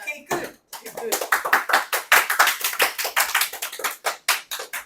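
Hand clapping in a math classroom, a run of sharp, close claps in quick uneven bursts, with students' voices talking around them.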